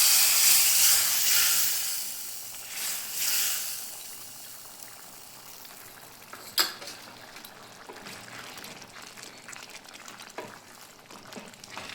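Spiced tempering hits a pot of chickpea dal with a loud hissing sizzle that fades over a few seconds, followed by quieter bubbling, a sharp clink of a metal spoon and light scraping stirs.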